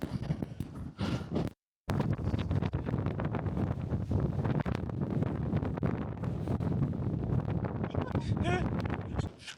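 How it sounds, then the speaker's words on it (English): Strong wind buffets the microphone in a steady broadband roar in Orkney, with a brief dropout near the start and voices talking over the gusts. "It's so windy."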